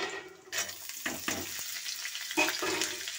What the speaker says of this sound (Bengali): পেঁয়াজটা আমি ভালো করে লাল লাল করে ভেজে নেব